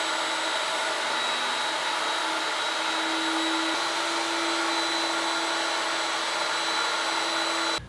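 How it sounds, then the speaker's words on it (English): A router fitted with a 1/8 inch radius round over bit shapes the edges of a wooden side table top, a loud, steady high-pitched whine that runs unbroken and close throughout. "I'm going to round over all the edges with an 1/8 inch radius round over bit."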